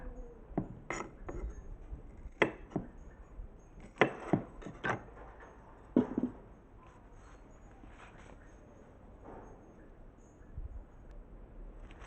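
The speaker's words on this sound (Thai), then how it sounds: "ก็จะหั่นหัวหั่นท้ายอย่างนี้เลยค่ะ" A knife chops the ends off bilimbi fruit on a board to prepare them for salt pickling. Irregular sharp, close chops come in small clusters, then fade to quieter taps near the end.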